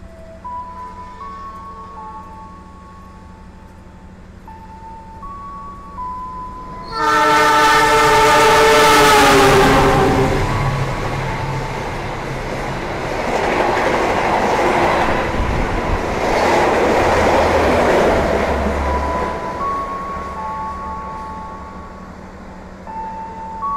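A train rolls loudly into Tanjung station with a burst of horn or whistle tones, followed by heavy rumbling and hissing as it slows, with steady chime-like tones before and after.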